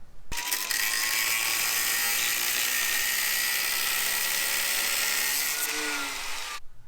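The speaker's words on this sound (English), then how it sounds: "So we can just cut this off here and see if that doesn't alleviate the problem." A cutting tool slices off the protruding end of a bolt during a front inner fender install on a Jeep Wrangler JL, giving one steady, loud, high grinding whine that runs for several seconds before stopping abruptly, with no talk.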